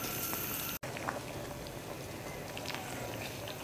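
Pasta boils in a pot of water with a faint, continuous bubbling patter and occasional soft pops, heard alone at low volume.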